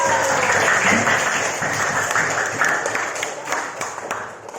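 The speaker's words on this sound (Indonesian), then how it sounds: "Tepuk tangan dong." Participants in a class or training session burst into scattered applause, dense at first and then thinning into a few separate claps.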